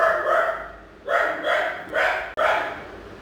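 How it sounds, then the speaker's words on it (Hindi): Dogs barking in the background outside a home sewing space: four loud, separate barks in a row, each a short bright burst with brief pauses between, no one speaking. "पीछे से कुत्तों की आवाज़ आ रही होगी"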